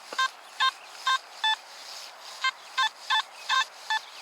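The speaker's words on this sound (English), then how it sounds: "Again, probably a can slaw trashy signal." A Nokta Makro Simplex metal detector sounds its target tone in a field as a string of about ten short, bright electronic beeps, evenly spaced and close, over faint background hiss with no talking.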